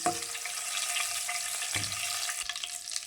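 Whole spices frying in hot oil for a chicken gravy, stirred in the pot with a dense, close sizzle and occasional scraping, no talking.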